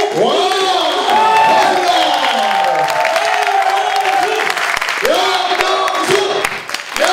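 A talk-show studio audience applauds and cheers for guest Yang Jeong-suk, a loud, sustained burst of clapping with whoops and shouts, while a host's voice rings out over the crowd.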